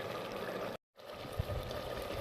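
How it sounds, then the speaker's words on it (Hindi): Ghee poured into cooked, dried-out black chickpeas in a pan gives a steady close hiss and sizzle that cuts out briefly, then resumes. "तो अब हम इसमें घी डाल लेते हैं।"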